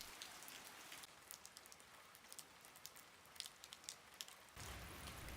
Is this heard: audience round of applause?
no